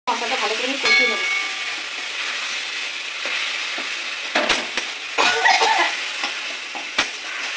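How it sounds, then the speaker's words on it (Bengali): Spice paste with ground coriander and sugar fries and is stirred in hot oil for a biryani, giving a steady close sizzle and hiss with scraping stir strokes and occasional louder clatters. "মশলাটা ভালো করে কষিয়ে নেবো।"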